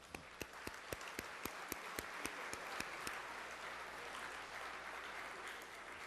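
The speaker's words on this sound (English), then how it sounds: "please join me in giving yourselves a resounding applause for being here" Audience at a friendship dinner applauding, a dense sustained wash of clapping from many hands with a few sharp nearby claps standing out in a regular beat, fairly distant in the room.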